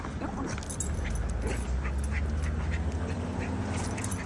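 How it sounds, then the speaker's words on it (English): Several dogs bark in repeated, somewhat distant yelps along a street with no sidewalk, where a German Shepherd is being walked on a leash, all over steady outdoor background noise. "the dogs are barking everywhere"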